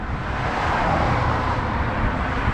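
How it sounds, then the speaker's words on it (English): Roadside highway traffic rumbles steadily beside a Peterbilt truck dealership, a loud, continuous wash of passing vehicles with no speech. "Sorry for the noise, I'm right along the highway here."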